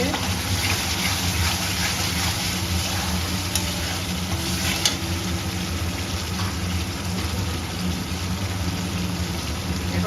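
Spice paste for katla fish kalia frying in oil in a pan, a steady, close sizzle that runs unbroken throughout with a faint watery hiss beneath it.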